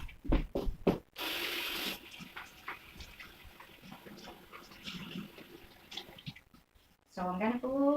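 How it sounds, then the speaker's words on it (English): Tap water runs briefly into a container being filled to make an ice block, a short hissing stream close to the microphone, surrounded by quiet clatter and scattered speech. "I'm gonna put water"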